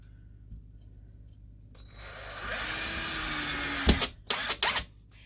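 A power drill drives screws into drywall, whirring up to a steady loud drone for about two seconds, then stopping and giving a few short bursts, close by with no talking.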